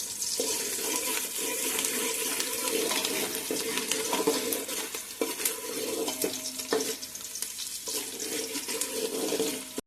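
Onions fry in a pan until reddish, giving a steady close sizzle with irregular scraping and stirring sounds throughout. Nobody talks.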